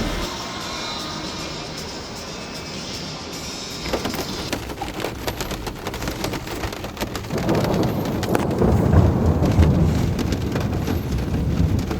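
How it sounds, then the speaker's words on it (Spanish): A thunderstorm with steady rain hissing on surfaces, thunder rumbling in, and the downpour growing louder and heavier toward the end, with no voices. "atravesamos la tormenta"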